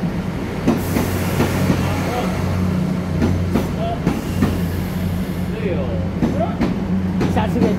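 A DR3100 diesel multiple unit Tze-Chiang express, nine cars, pulls into a station on the North-link line, a steady low rumble with rail clatter and occasional squeals, while people talk nearby.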